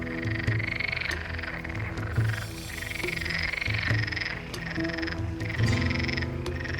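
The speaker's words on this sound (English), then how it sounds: "Sahara frogs can be heard calling from the pond." Sahara frogs call from a pond in Morocco in repeated croaking bursts, several overlapping voices in a steady rhythm with pauses between phrases, fairly close and with no talking.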